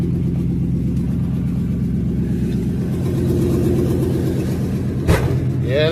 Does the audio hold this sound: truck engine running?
yes